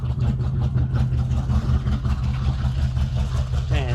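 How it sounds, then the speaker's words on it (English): A 1982 Corvette engine idles without mufflers, a steady, loud, deep rumble with an even low pulse throughout, a brief higher whine near the end. "Man, it sounds so mean without the mufflers."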